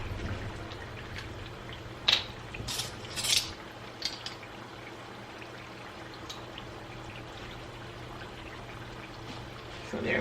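A teaspoon of Worcestershire sauce is poured into a seafood boil sauce, with soft trickles and a few clinks of a metal spoon against a dish over a quiet steady room hum.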